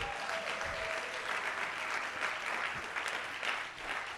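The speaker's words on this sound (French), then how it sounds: "Tu peux acclamer Dieu là-dessus." Church congregation applauding and cheering God during a sermon, a steady sustained wash of clapping with crowd noise that rises and falls slightly over several seconds.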